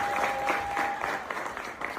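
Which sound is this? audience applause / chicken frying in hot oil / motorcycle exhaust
audience applause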